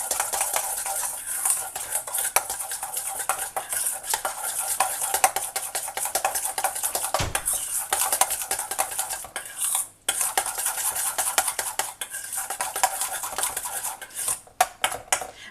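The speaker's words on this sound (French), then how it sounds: "Et je vais mélanger tout ça." A spoon whisks brown sugar and a whole egg in a bowl, fast rhythmic clinking and scraping against the sides that runs steadily and close, pausing briefly twice.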